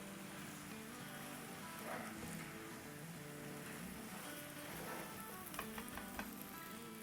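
Maggi noodles stir-fried with chicken and spices in a pan over a high flame give a steady, soft sizzle with faint stirring scrapes and small pops near the end.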